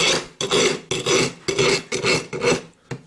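Handheld grinder working over a smelter part, heard as a series of about seven harsh rasping bursts with short pauses between, close and loud, with no talking.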